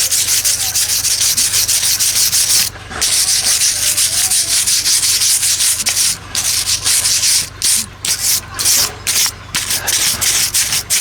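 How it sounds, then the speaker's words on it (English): A wire brush scrubs excess dried cement off the stones of a stone stile, a steady loud rasping scrape that runs continuously with a few brief pauses between strokes. "So I've got my wire brush and I'm literally just rubbing the cement off of the"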